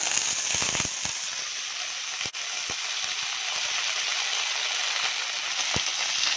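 Mint leaves sautéing in a hot pan for mint chutney, a steady close crackling sizzle throughout with a few sharper pops, no talking.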